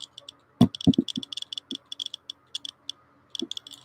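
A Radiacode 102 radiation detector gives off rapid, irregular Geiger-style clicks, sharp and close, bunching into quick flurries with a few heavier knocks early on, and no voices.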